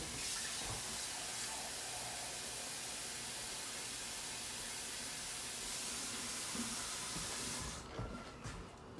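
Water runs steadily from a tap into a measuring cup with a constant hissing rush for several seconds, then cuts off and a few faint clinks follow.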